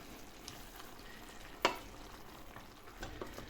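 A cooking pot of kabuska being stirred, with quiet low sizzling, a single sharp utensil clink near the middle and soft scraping afterward, no speech.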